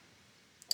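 Two quick clicks of a computer mouse button near the end of a quiet stretch, the second sharper and louder, close and crisp with no talking.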